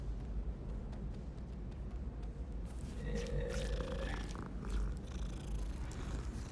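A cat purrs in a Harry Potter video game, a steady low rumbling hum that runs through the whole stretch at a moderate, even level with no talk over it.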